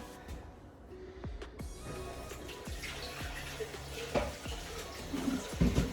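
Running tap water splashes into a mixing bowl being rinsed after grating cheese, a steady hiss of flowing water with occasional clinks and knocks against the bowl, close by.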